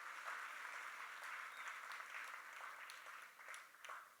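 An audience at a closing keynote gives Melanin B a warm round of applause, dense steady clapping that carries on for several seconds and tapers slightly toward the end.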